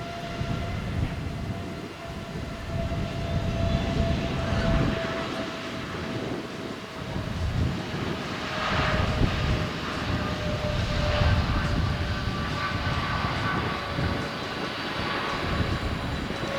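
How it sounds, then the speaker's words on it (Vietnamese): An Airbus A350 airliner taking off, a sustained roaring jet engine rumble that swells and ebbs over the whole stretch, with a thin steady whine riding above the broad low roar, fairly distant and without voices. "mời mọi người chiêm ngưỡng pha cất cánh của con chim lạc này nhé"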